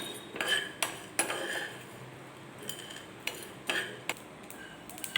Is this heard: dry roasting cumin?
yes